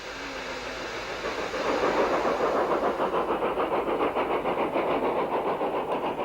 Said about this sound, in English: Another 2P climbs the bank with a gas wagon at the back.